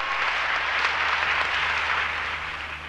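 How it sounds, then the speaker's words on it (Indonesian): A church congregation claps during a sermon, a full and even wash of many hands applauding continuously throughout. "Tepuk tangan bagi Allah kita."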